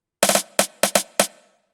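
A short pitched-down snare drum fill in a drum and bass track, with five or six punchy, snappy hits in quick uneven succession, played alone and ending in a brief decay.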